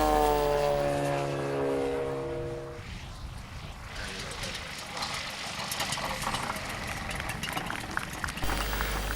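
A radio-controlled scale model airplane engine at an airshow, a steady engine drone with harmonic tones at first, then a rougher, noisier buzz as the plane passes, continuing steadily to the end.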